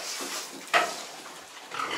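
A boar and sows on a farm grunt and snuffle at close range, with steady low grunting and one sharper squeal-like grunt standing out in the middle.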